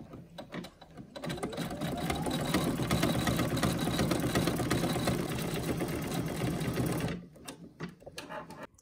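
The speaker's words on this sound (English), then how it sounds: "So this should be putting the top stitch in there." A Brother NQ1700E embroidery machine sews a top stitch on an in-the-hoop hip hugger bag, a fast continuous mechanical whir and needle chatter running for about six seconds before stopping, close and loud.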